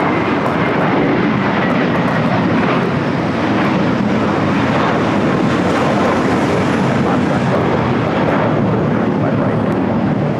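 An Airbus A321neo jet airliner on a Spirit flight arriving at LAX produces a loud, continuous broadband engine roar that holds steady throughout, with some wind buffeting and no talking.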